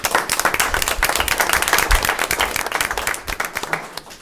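Audience applause at a school committee meeting welcoming a student representative, a dense continuous clatter of many hands in a hall, steady and fairly loud before tapering slightly.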